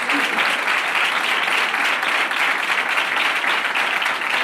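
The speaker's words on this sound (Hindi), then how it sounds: "इनकी इंतजामिया के लिए जरा जोरदार तालियां।" A church congregation applauds loudly and steadily in a dense, continuous burst of many hands clapping, sustained evenly with no talk over it.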